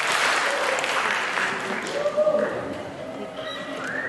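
An audience claps at a startup pitch day welcome event, a broad wash of applause that thins out, with a voice speaking over it near the end.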